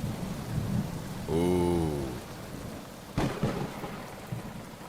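A rainstorm in Michigan brings steady rainfall and rolling thunder, with a sharp crack partway through. A voice briefly exclaims over the storm.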